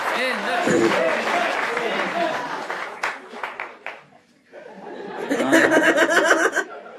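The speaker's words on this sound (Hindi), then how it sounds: "उसके लिए ताली बजाइए" A studio audience at an escape room comedy show laughs and chuckles under talk, then breaks into a loud burst of clapping near the end.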